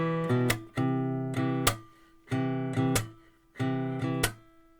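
Guitar strums the first half of a song: four strongly accented chord groups, each a quick double strike that rings and decays, played close and clear with no voice.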